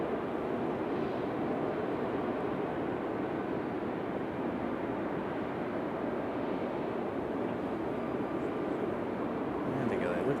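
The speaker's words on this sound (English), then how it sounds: "we have that Air Canada A320 making its way in" An Air Canada Airbus A320 arriving at Raleigh-Durham airport, a steady broad roar of jet engine noise holding at even loudness throughout, with wind buffeting on the microphone.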